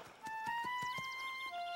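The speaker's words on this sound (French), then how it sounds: "Il est vraiment grand, ce cheval, papa. C'est un poney." A cartoon pony whinnies over steady clip-clopping hooves, a clear high neigh riding above the rhythmic trotting beats, with no talking.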